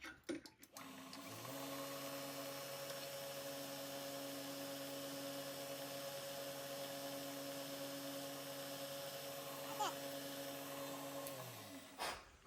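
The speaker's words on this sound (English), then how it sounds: "I'm going to do that in the drill press because I can run it faster" A drill press spins a tiny number 60 drill bit, boring a short hole in a fuel mixer part for a small six-cycle model engine. A steady, even motor hum runs for about ten seconds, then winds down.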